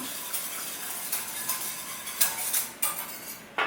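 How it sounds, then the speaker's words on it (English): A spoon stirs milk and cream in a pan for a cheesy cauliflower bake, giving light scraping and soft clinks against the metal with a faint sizzle beneath, close and fairly quiet. "Little stir around."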